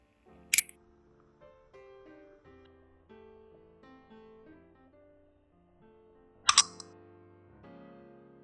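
A 1904 Maltby thin lock case mechanism snapping shut, two sharp metallic clicks about six seconds apart, close and distinct against a quiet background with faint music.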